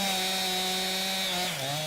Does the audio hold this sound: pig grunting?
no